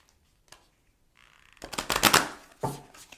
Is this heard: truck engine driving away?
no